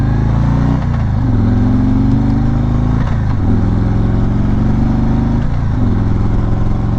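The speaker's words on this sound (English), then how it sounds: "do a quick acceleration test and go through the gears to see how she feels" A 2020 Harley-Davidson Tri Glide Ultra accelerating hard through the gears, its loud close V-twin rumble climbing in pitch then dropping at each of several shifts, with no talk.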